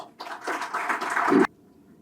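Audience applause at a book release, a dense burst of clapping rising for about a second and cutting off abruptly, leaving quiet room tone.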